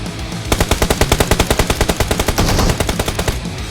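Dual P90 submachine guns firing in a video game, a fast, steady stream of rapid shots lasting about three seconds after a brief quiet start, loud and close.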